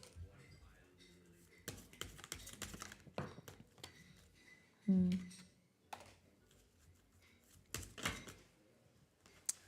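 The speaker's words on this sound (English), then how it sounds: "only now that I started shuffling." Tarot cards being shuffled by hand, with repeated soft riffling bursts and taps up close, broken by short pauses and occasional quiet speech.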